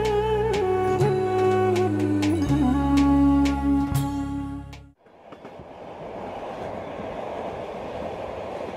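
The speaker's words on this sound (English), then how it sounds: "The train journey continues through the steppes of Central Asia" The Orient Silk Road Express train rolls along the rails through the Central Asian steppes with a loud, droning mechanical hum and rhythmic clacks, then shifts abruptly to a softer, rushing rumble of wheels on track.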